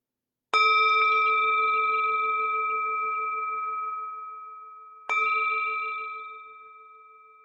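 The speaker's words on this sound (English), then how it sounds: "The sound of the bell returns us to our true home." A meditation bell is struck twice, each clear ringing tone sustaining and slowly fading, the second strike about four and a half seconds after the first.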